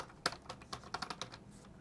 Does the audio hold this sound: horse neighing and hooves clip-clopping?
no